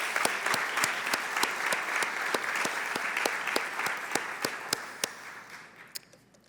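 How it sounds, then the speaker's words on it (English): Convocation audience giving students another round of applause, a steady wash of clapping with one or two sharp, rhythmic claps standing out near the microphone before it gradually dies down. "So let's give the students another round of applause."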